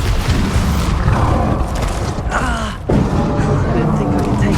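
Bombarda blasting spells in the Hogwarts Legacy video game during a final battle, loud booming impacts and crashes in a dense, continuous mix with game voices and effects layered over them.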